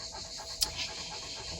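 A hot dog pants quickly and softly close by on a very hot, heavy summer day, with a brief louder breath or sniff in the middle.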